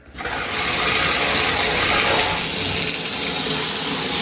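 Water gushes loudly and steadily from a bathtub spout during a spout replacement, rising quickly from a brief quiet start into a continuous close-up rush with no talking.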